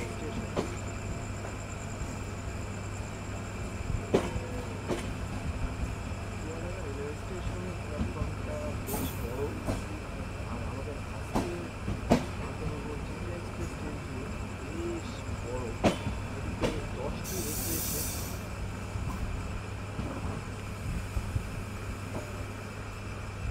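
Chitra Express train rolling into Chuadanga railway station at night: a steady low rumble with scattered metallic clacks and clunks, fairly quiet, with faint voices in the background.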